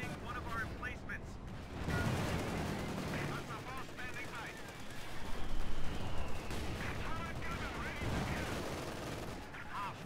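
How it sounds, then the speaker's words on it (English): Machine gun fire crackles in rapid bursts across a Company of Heroes 2 battlefield, mixed with heavier explosions and mechanical battle noise, and someone talks over the combat throughout. "So a lot of MG fire"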